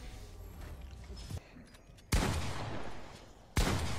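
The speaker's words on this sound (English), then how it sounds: "Why is Killer B shooting with a shotgun?" Shotgun blasts from the video game Fortnite, two loud sharp shots spaced apart over quieter game noise and faint clatter.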